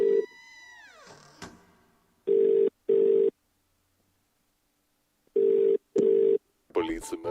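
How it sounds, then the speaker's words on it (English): Telephone dialing tones from the video game The Cat Lady: a pair of loud, evenly spaced tone bursts, a pause, then another pair, after a short opening sound and followed by a brief noise at the end. "Just use this phone."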